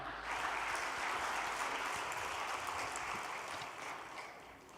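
A crowd at a Korean gathering applauds to welcome a speaker to the podium, a soft, steady wash of many hands clapping at a distance, continuous throughout and slowly tapering toward the end.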